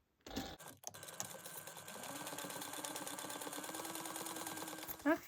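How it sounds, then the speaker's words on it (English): A sewing machine runs steadily for several seconds, top stitching a zipper trim one-eighth inch from the edge on a fold-over pouch, with a short clatter at the start and a brief spike near the end. "we're going to top stitch at 1/8 of an inch"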